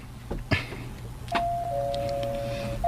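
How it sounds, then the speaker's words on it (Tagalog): A doorbell sounds a single sustained electronic tone after a couple of soft knocks, fairly close, in a quiet room. "Mag-doorbell ako."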